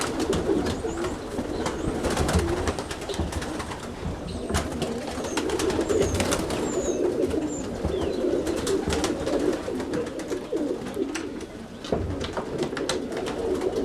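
Roller pigeons, silver dun birds among them, coo steadily in a loft, a continuous low murmur of overlapping cooing from several birds with faint chirps, close and fairly loud throughout.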